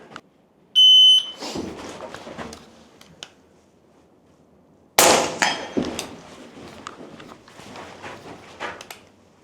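A brief shooting-timer buzzer beeps once, then sharp rifle shots and metallic clanks of steel targets follow in a quick, uneven burst during rifle training.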